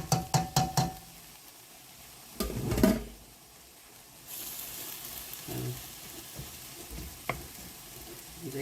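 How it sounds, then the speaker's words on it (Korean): Chili peppers fry in hot oil with anchovies, bursts of sizzling and stirring along with a few sharp knocks of a utensil against the pan, close and moderately loud. "이제 기름에다 더 이제 고추를 볶는 거예요."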